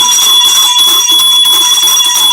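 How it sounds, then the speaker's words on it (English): A loud electric bell rings continuously, a harsh sustained metallic clang that fills the whole clip without pause. "Ring the bell."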